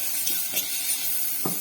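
Garlic sizzling in a hot pan for a hostel-style soya chunks curry, a steady quiet hiss with a few soft scraping strokes of stirring, close and alone.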